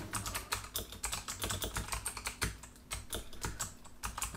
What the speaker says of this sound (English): I start typing A, B, C